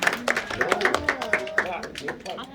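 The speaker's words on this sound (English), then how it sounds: "Big round of applause for you guys." A small tour group at the Mystery Spot in Santa Cruz, California claps briefly in a loose, light patter while several voices talk over it.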